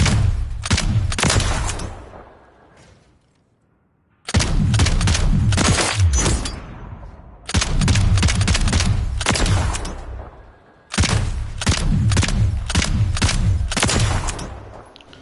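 DS Farsight gun in Call of Duty: Modern Warfare III, fired in four sustained automatic bursts of rapid, sharp cracks with clattering mechanical tails, separated by short pauses.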